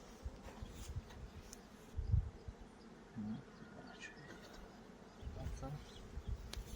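Honey bees buzz around frames lifted from a hive while bee packages are being formed at an apiary, a faint, steady hum with a few handling bumps and no clear speech.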